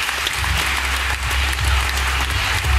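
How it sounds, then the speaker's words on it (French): Audience applause at a hypnosis stage show in Champagnole, a dense, steady wash of clapping from a full room that holds at the same loud level throughout, with no voices standing out. "On peut encore les applaudir bien fort."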